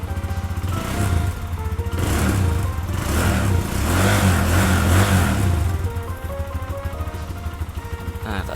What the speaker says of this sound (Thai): มาฟังเสียงท่อกันเลย ท่อเดิมนะครับเงียบๆ นุ่มๆเลย